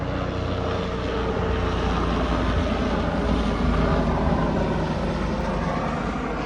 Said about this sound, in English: So I think that was a medical helicopter taking off.